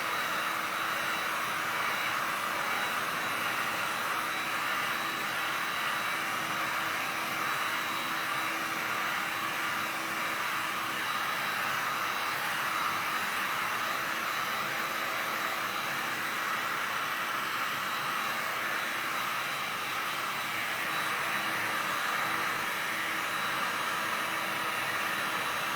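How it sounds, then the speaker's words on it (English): A heat gun blows hot air over a side table, giving a steady, continuous whooshing roar that stays even and fairly loud throughout, with no talking. "Now I'm just gonna try that using the heat gun"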